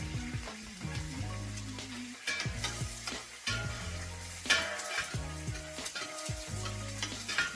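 Onions sautéing in a pot for an oxtail soup, a faint continuous sizzle broken by irregular clicks and clinks from stirring.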